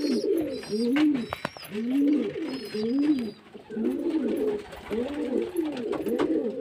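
Pigeons coo nearby in repeated soft, throaty phrases, several rolling calls in a loose rhythm, with light clicks and rustles between them.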